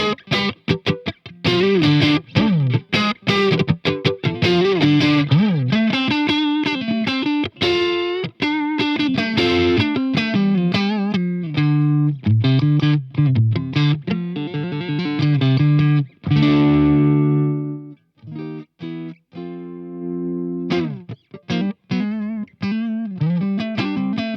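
Heavily distorted electric guitar riffing through a CTC Heatseeker Marshall-style pedal with high gain and reduced presence, loud and sustained with thick saturated tone, ending in a few choppy chords.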